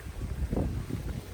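Gusty wind buffets the microphone during an outdoor bike ride between Beeston and Nottingham, a low rumbling roar that swells and fades unevenly over the brief stretch, with no voices.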